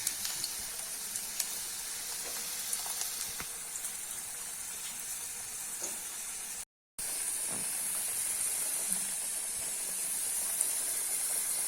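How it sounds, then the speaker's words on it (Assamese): Potatoes frying in a pan for a pork curry, a steady close hiss of sizzling oil running throughout, with one brief break partway. "আলুখিনি ফ্ৰাই কৰিম, আলুখিনি ধুনীয়াকৈ ফ্ৰাই কৰিম এতিয়া।"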